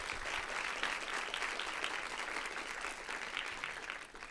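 An audience at a Colorado pollinator summit session applauds briefly, dense steady clapping from many hands throughout, moderately loud and without speech.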